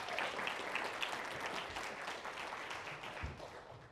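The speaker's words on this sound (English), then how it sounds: "a big round of applause for our staff members" A crowd at a State of the County 2025 address applauds steadily, a dense wash of many hands clapping at even volume throughout, with no voices standing out.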